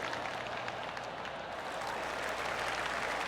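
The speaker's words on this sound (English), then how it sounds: "I can hear the golf claps around the course." Soft, distant golf claps from a crowd around a course in PGA Tour 2K25, a faint continuous patter of applause under ambient noise.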